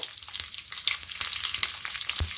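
Green chilies and urad dal fry in hot oil for a daddojanam tempering, giving a bright continuous sizzle and crackle with a few pops and stirring knocks, close by and with no talking.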